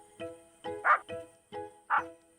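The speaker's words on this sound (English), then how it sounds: "Snuffy carried on barking." Snuffy, a cartoon dog in a classic animated show, barks in a series of six clear yaps. They come in an uneven rhythm, close and fairly loud, with nothing else around them.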